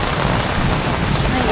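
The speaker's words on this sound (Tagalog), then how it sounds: "Lakas ng ulan, grabe!" Heavy rain pours down in Naga, a dense, loud, constant hiss of rainfall with no break.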